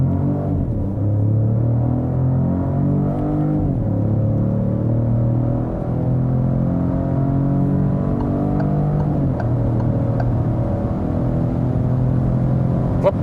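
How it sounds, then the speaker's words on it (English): An SUV in sport mode accelerating hard from low speed toward motorway pace, its engine a loud, steady drone that climbs in pitch, with a couple of brief dips where gears change. "Now we accelerate out. We put it once again to sports mode"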